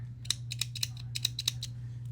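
Scissors snip crochet yarn in a quick run of about eight to ten sharp metallic cuts, close and crisp over a low steady hum.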